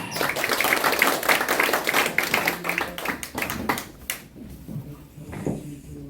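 A crowd at a political party press conference claps in a dense burst that thins out and fades midway, leaving a few scattered claps.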